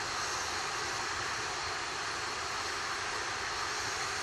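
An Atlas V rocket climbing past Mach 2 after launch from Cape Canaveral, its engines and solid rocket boosters producing a steady, dense broadband roar that stays loud and unbroken throughout, with no voices.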